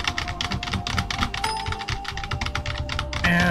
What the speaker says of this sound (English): Back to pressing Z and X again